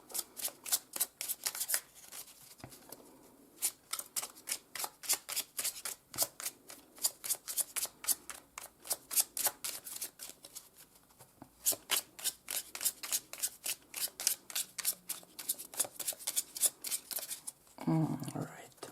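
Tarot cards are shuffled in rapid, continuous riffling bursts close to the listener for about seventeen seconds, ending with a brief rustle as the deck settles.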